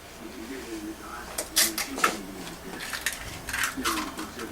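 A fork beats a cracked egg in a bowl for a meatloaf mix, giving quick, irregular clicking and tapping against the bowl that comes in uneven bursts at moderate volume.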